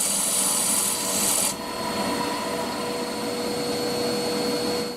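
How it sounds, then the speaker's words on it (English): A wood lathe spins a glued-up bowl blank while a tool machines its surface flat, a steady loud hissing, rasping drone with whining tones that drops in level after a second or so, then runs on evenly. "now I'm just machining off the surface that's got to be glued to the segmented ring"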